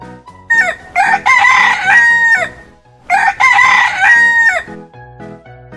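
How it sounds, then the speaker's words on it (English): A rooster crows twice, each a loud, drawn-out cock-a-doodle-doo close by, followed by a few soft clucks at the end. "Rooster."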